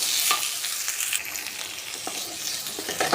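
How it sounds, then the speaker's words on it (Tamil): Okra being stirred and sautéed in oil in a pan for sambar, with continuous close sizzling and repeated scraping stir strokes. "நல்லா கிளறி விட்டுக்கலாம் நம்ம வெண்டைக்காய் வதக்காமல் சாம்பார் வச்சோம்னா குழம்பு எல்லாமே வளவளப்பாயிடும் ஒரு பத்து நிமிஷம் வதக்கிக்குவோம்"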